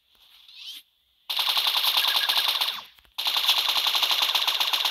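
A minigun fires in the Roblox game Hero Brawl: two long, loud, rapid-fire bursts with a dense mechanical rattle, separated by a short gap, after a brief faint whir.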